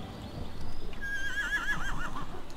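A horse neighs and whinnies in the Torchlight video game, a wavering, falling call rising over a busy game-sound backdrop with hoof-like clatter, lasting a second or so and heard clearly without talk.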